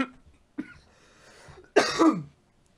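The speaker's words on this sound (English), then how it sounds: "Oh, as I cough out my lung." A short series of coughs, a couple of brief hacks followed by a louder, heavier rasping cough with throat clearing, close to the microphone in a quiet room.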